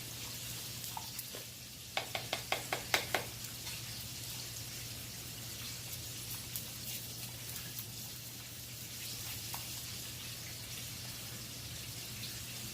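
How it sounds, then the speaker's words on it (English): Food sizzles steadily in a pan while a spoon stirs it, with a quick cluster of clicking scrapes early on and quieter stirring afterward over a constant frying hiss. "We want to give it a little stir."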